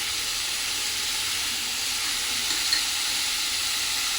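Tomatoes, onions and green chillies fry in hot oil, giving a steady, even sizzle with a soft hiss that holds at a constant level throughout, close up and without voices.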